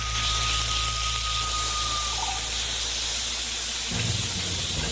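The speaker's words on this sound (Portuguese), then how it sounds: "Primeiro fritamos a carne de porco." Steady, loud sizzling and hissing of pork frying in hot sesame oil in a cauldron, continuous throughout, with a faint tonal whine and a low thump near the end.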